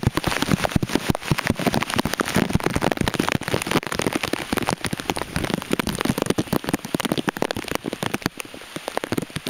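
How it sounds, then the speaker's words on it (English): Heavy rain from Hurricane Isaac in southern Alabama pelts down hard and steadily, a dense crackling patter of drops hitting surfaces nearby with no pauses. "It's raining pretty hard right now."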